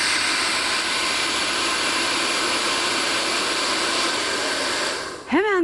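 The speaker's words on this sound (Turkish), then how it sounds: "Saç kurutma makinemizin yanına getiriyorum." A hair dryer running up close gives a loud, steady whooshing blow of air that holds constant throughout, then a short voiced sound at the very end.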